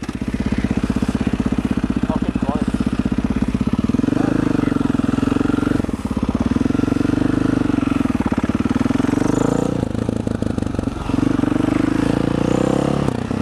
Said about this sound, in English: I am now riding a two-stroke.